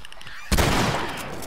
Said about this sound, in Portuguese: eu quero dar um tiro só